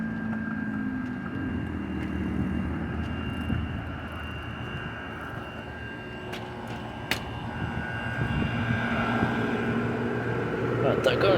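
An apartment complex air conditioner unit runs in cool mode, its condenser fan giving a steady mechanical drone with a low hum, continuous throughout and swelling slightly toward the end.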